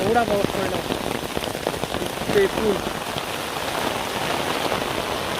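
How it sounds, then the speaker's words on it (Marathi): Steady rain pours down throughout, with a brief spoken phrase near the start and another a couple of seconds later. "पाऊस खूपच आहे."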